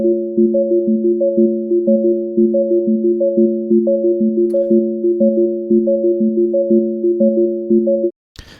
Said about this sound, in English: Well, let's put some reverb on it.